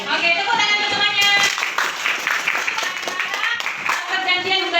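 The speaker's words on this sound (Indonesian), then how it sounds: "Oke, tepuk tangan untuk semuanya." A class of students claps together in a steady run of sharp, dense hand claps that lasts throughout, with voices mixed in.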